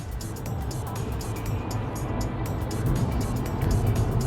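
A car drives along with a steady interior road rumble and engine hum that builds slightly toward the end, with no talking over it.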